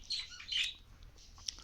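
Pet lovebirds give short, bright chirps in quick bursts near the start, then one brief call later, all fairly faint against a quiet room.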